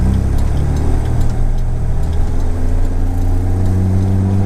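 An E-type Jaguar with unresolved faults driving, a steady loud low engine drone from inside the car with a slight rise in revs near the end, no speech.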